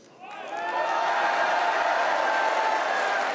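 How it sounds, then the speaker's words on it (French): A large crowd breaks into applause at a political rally in the Palais des Sports in Paris. The clapping builds quickly into a dense, sustained roar that holds steady, with faint cheering mixed in. "Oui, vous avez raison d'applaudir"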